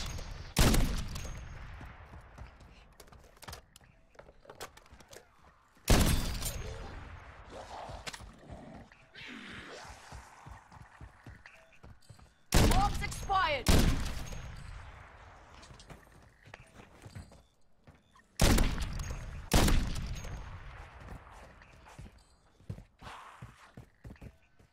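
Sniper rifle shots ring out in MW3 Zombies, four loud separate blasts spaced several seconds apart, each trailing into a fading echo, with quieter game clatter and footsteps between them.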